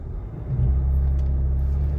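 A new Land Rover Defender's engine rumbles low and steady as it climbs an off-road hill, swelling slightly halfway through and then holding a constant drone up close.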